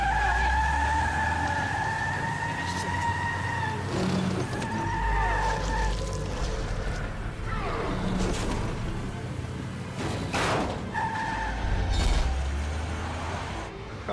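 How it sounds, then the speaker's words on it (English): Tires skid and squeal through a car chase in The Wolf Among Us, Episode 5 "Cry Wolf", with engines roaring underneath and a few sharp crashes; the noise stays loud and busy for the whole stretch, with no clear talk over it. "He thinks it's gonna be a car chase."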